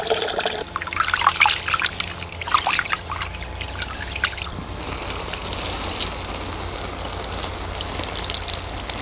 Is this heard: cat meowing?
no